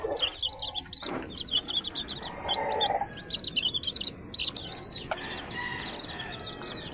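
Mixed flock of hens and young chicks from two days to one week old, soft clucks under a steady layer of high, rapid chick peeping, all close by and moderately quiet.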